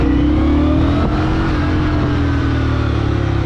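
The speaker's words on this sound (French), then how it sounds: "On est juste à appuyer une fois pour qu'elle démarre" An Indian Scout motorcycle engine fires up with its push-button electric starter and settles into a loud, steady, close-up running rumble with a brief rise in revs.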